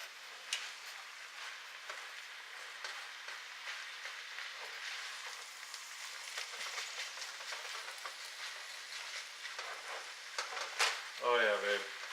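Garlic sizzling steadily in a hot pan for sloppy joes, a soft continuous frying hiss with faint stirring scrapes, heard close with no talk.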